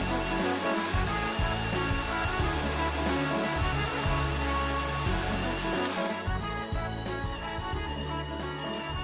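Cordless 12 V drill driving a 30 mm Forstner bit into a 2 cm mahogany board: a steady, loud motor whine with grinding, rubbing chatter from the bit that continues throughout, with a brief stall near the six-second mark.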